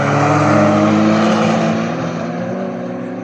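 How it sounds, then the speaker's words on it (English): A Vauxhall VX220 chases Porsches around the Cadwell Park circuit during a track day, engines roaring loud and sustained at high revs, with a slight pitch drop as the cars pass. "that Vx220 is getting all over the back of those Porsches"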